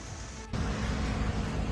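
Heavy rain falls in Delhi during waterlogging, heard as a steady, dense broadband hiss that grows slightly louder about halfway through and continues without a break.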